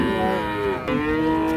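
A Holstein Friesian dairy cow moos loudly and close by in two long, drawn-out calls, the second rising and sustained, with no other sound over it.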